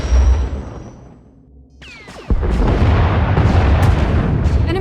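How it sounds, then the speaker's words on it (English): Turbolaser and missile fire from an enemy Thranta-class warship in Star Wars: The Old Republic. A rising whoosh gives way to a loud, sustained rumbling barrage of booms and blasts, with no talking. "Enemy is firing. Turbo lasers, missiles, and what looks like transport pods."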